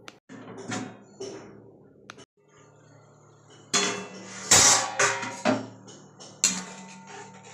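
A lid goes onto a pan of bhangar bata fish curry with a string of sharp metallic knocks and clatters, close and fairly loud, spread unevenly across several seconds.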